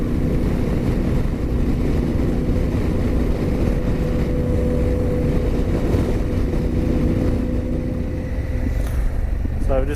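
A Honda Africa Twin motorcycle rides along a road, moving from dirt onto bitumen: a steady, close engine drone with a constant hum that carries on without a break the whole time.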